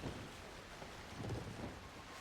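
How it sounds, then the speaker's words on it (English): Low rolling thunder with steady rain in a Wild West roleplay video game, a soft rumble that swells near the middle and fades, distant and fairly faint, no talk. "Do I hear Rolling Thunder?"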